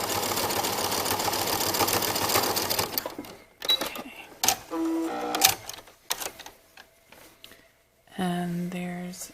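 Home sewing machine stitching a sports bra, a fast buzzing run of stitches at first, then short stop-start bursts of needle clatter, with someone talking between them.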